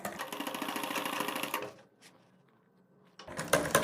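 A sewing machine stitches piping onto a kurti neckline, a fast, even mechanical rattle running close and steady, stopping for a quiet pause, then starting again sharply.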